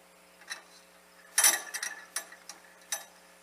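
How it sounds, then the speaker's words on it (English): A 3/8 ratchet snugs down black bolts, heard as a short burst of clicking followed by several spaced, isolated metallic clicks, close and fairly quiet. "At this point in time, you go to a 3/8 ratchet. You go in here and you snug down the black bolts."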